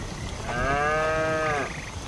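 A single long, clear cow moo sounds at close range, rising out of quiet outdoor background noise and fading out after about a second.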